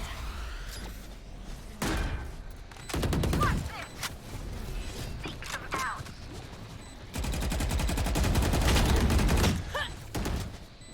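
Bursts of gunfire and impacts in a Valorant tryout match, with Jett's knives wall banging, arriving in two loud clusters separated by quieter game ambience and voices.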